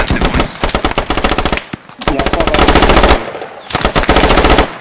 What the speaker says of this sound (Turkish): MG sesinden duyamadım.